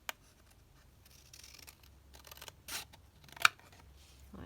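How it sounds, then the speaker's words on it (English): Scissors trim journal paper in a quiet room: a few soft cuts spread apart, then one sharp snip near the end. "I'm just going to trim it down at the top to make sure it's"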